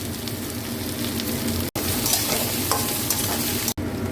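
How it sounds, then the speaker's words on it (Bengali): Potatoes and onions frying together in hot oil with a pinch of asafoetida, a steady close sizzle with stirring, broken by two brief cuts, no talk. "এবার আমি আলু আর পেঁয়াজ একসঙ্গে ভেজে নেব। আলু আর পেঁয়াজ আমি একসঙ্গে ভেজে নেব। একটু হিং দিয়ে দিলাম এর সঙ্গে।"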